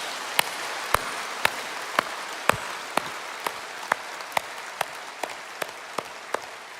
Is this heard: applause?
yes